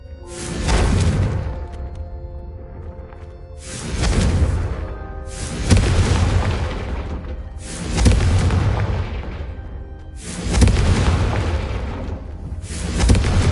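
Confringo spell blasts striking candelabras in a wizard video game: five loud booming explosions at roughly even intervals, each swelling and fading with a whooshing tail, no talk between them.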